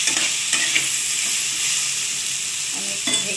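Potatoes and bottle gourd with lentil dumplings sizzle steadily in a pan while a spatula stirs them, scraping and clinking a few times against the metal, close and clear with no talking.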